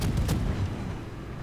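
Warship main guns firing shells in a naval video game, heard as a deep, booming rumble with a close, heavy low-end thud that fades into a rolling tail.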